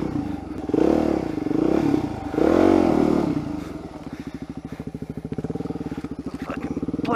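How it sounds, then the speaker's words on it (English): A tractor engine labours while plowing out a new trail, loud and close, its low rumble swelling with load and then settling into a steady, rapid chugging idle. "Fucking plowing shit with my tractor."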